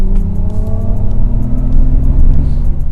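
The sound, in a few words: Mercedes-Benz EQS Silver Wave synthetic driving sound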